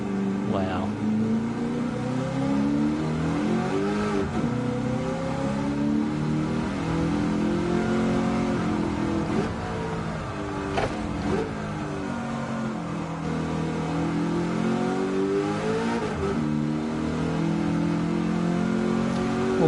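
A Mustang race car in a racing video game revs hard, its engine climbing and falling through the gears in a continuous loud drone, with someone talking over it.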